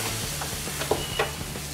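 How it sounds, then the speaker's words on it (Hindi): Buttermilk poured into semolina and vegetables frying in a pan gives a close, continuous sizzling hiss, broken by a few soft stirring scrapes. "अब हम इसमें ये बटर मिल्क डालेंगे।"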